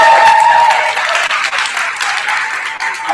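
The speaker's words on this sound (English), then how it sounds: "Let's give all of our candidates another round of applause." Audience applause for candidates at a 2014 CSU presidential debate, a loud dense burst of clapping that carries steadily through the short clip, with no talk over it.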